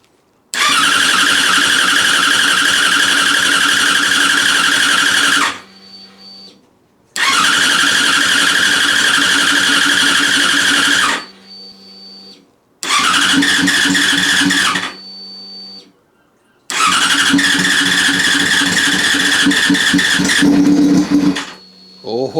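A Yamaha FZ6 motorcycle engine, just back from a fuel pump prime, cranks and catches in four loud bursts of several seconds each. Short pauses and quieter idle stretches separate the bursts, and there is no talk.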